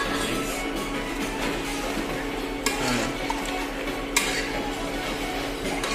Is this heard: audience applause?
no